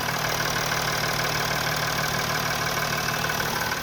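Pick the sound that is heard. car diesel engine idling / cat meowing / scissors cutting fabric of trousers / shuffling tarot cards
car diesel engine idling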